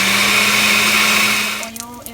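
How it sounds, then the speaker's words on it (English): A kitchen blender whirs loudly as it blends ingredients with water for a rice dish, a steady high motor whine that winds down after about a second and a half, followed by a few faint clicks. "and now I'm going to blend it"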